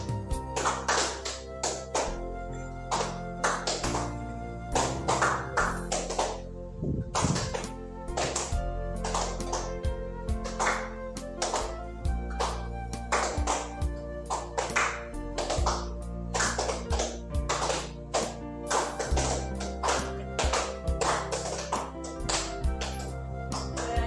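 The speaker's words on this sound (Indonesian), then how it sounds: "Tepuk tangan untuk kita semua" Teachers clapping hands together in a concentration clapping game during a school training session, a room full of sharp, uneven claps in bursts with short pauses between them.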